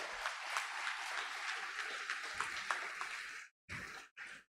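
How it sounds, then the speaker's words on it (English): An audience at an alumni event gives a round of applause: steady, dense clapping of moderate loudness that breaks off abruptly near the end, with no speech. "I think all of you should give a big round of applause for him for having come back here."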